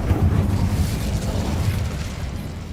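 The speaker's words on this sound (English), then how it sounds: "Incendio." A fire spell cast in the Hogwarts Legacy video game gives a steady rumbling, roaring burst with a dense low boom that persists at constant loudness throughout, with no talking.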